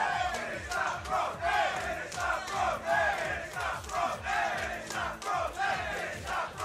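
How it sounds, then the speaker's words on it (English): A large crowd at a fighting game tournament final roars and chants in rhythmic waves, loud and sustained, with pulsing surges of cheering throughout. "The crowd goes wild."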